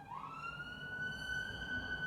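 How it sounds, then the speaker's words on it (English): A wailing emergency siren rises in pitch, then holds a steady high tone, heard continuously at moderate distance for about two seconds with no talking. "because there's a siren"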